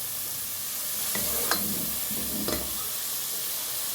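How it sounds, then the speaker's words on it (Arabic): Onions sautéing in a pan, a constant loud sizzle with a few stirring scrapes of a utensil partway through. "افضل اشوح كده لما يديني اللون اللي انا عايزاه."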